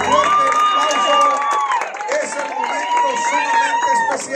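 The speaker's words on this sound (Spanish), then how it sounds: "El aplauso de nuevo, que se sienta." Wedding guests applaud and cheer right after a couple is pronounced husband and wife at the ceremony, a steady crowd roar with clapping mixed under excited voices and music-like tones.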